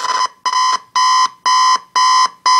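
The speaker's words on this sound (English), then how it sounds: "And then there's music and there's the alarm." A 1993 GE digital clock radio, model 7-4612B, sounds its alarm buzzer: loud, buzzy bursts about half a second long, repeating steadily with short gaps, with no voices.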